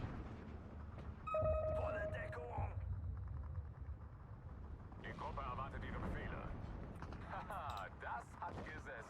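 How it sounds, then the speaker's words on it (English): Mortar fire in the World War II strategy game Steel Division 2 comes as low, rumbling booms and bursts over a steady battlefield din, with voices talking over the top. "that's a mortar right there"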